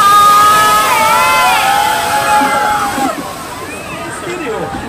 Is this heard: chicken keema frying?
no